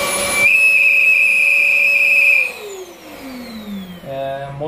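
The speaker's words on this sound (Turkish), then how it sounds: "hava akışı bozulduğu için ıslık sesi geliyor" A Rowenta Compact Power Cyclonic vacuum cleaner with disrupted airflow gives off a loud, steady high-pitched whistle over its motor hum, then the tone slides downward as the motor winds down before briefly rising again.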